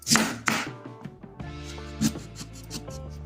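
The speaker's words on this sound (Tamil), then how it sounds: "நம்ம இப்போ இதை சின்ன சின்ன பீசஸாக முதல்ல கட் பண்ணிக்கலாம்" A knife cuts raw mango into small pieces for a sweet mango pachadi, giving a few close, sharp cutting sounds at the start and then softer scraping and tapping.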